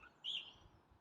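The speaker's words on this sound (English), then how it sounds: "as you can hear the birds singing today" A single bird chirps in a garden, a short, faint, high tweet rising briefly over quiet outdoor background.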